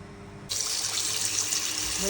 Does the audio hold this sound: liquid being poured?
yes